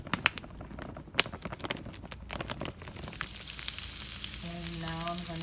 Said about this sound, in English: So I'm going to saute some of this.